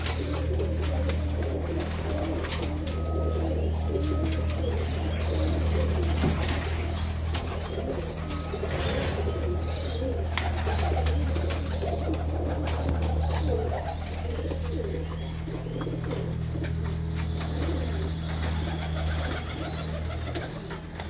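Breeder pigeons coo in low, repeated throaty calls against steady background noise, with occasional faint chirps and no talk.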